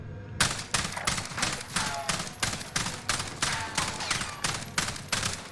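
Rapid fire from an AUG rifle in the Warzone video game, about a dozen evenly spaced, punchy gunshots in a fast, regular rhythm, loud and close with no talk over them.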